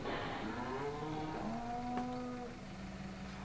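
A cow in Farming Simulator 17 gives a drawn-out moo, a single low, wavering call that is faint and set against quiet farm background noise.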